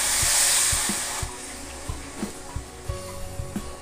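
Tamarind extract is poured into a murrel fish curry in a home kitchen, a watery pour that starts strong and then tails off into intermittent splashes and soft clunks.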